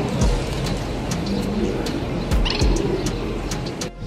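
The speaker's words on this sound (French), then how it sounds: "Et là, sur la pierre, il y a tout plein d'oiseaux." Birds gather on a stone at the Oceanogràfic aquarium park, with pigeon-like cooing and scattered chirps over a steady outdoor background hum.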